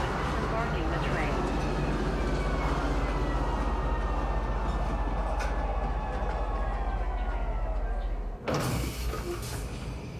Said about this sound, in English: Please watch your step when disembarking the train.